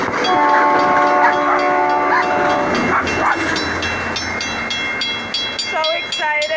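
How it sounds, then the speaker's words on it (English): A passing train sounds a long, loud horn with sustained harmonic blasts over the rumble of the cars, then a shorter horn call near the end; someone talks excitedly to a Cavapoo dog nearby. "That's the train."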